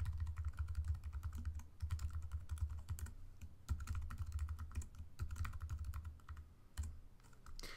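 Fingers tap out an email address on a computer keyboard in quick, irregular bursts of key clicks with short pauses between them. The clicks are close-miked but quiet, and no one speaks.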